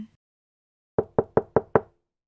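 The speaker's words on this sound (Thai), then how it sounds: "เสียงเคาะประตูหน้าบ้านทำให้สองสาวชะงัก" Five even, fairly loud knocks on the front door in The Sims life-simulation game, struck in a quick steady rhythm and heard alone after a brief moment of silence.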